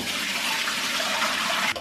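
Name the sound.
water being drained off soaked mutton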